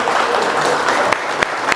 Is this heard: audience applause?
yes